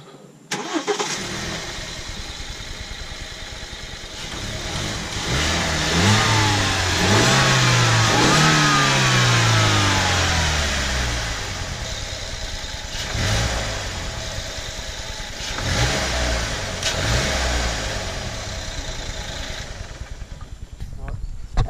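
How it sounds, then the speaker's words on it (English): A BMW 1 Series engine running with the stock air filter, revved several times in rising and falling sweeps that climb and settle back to a steady idle, loud and close. "We're just going to give it a quick rev before, and then I'll do an after as well"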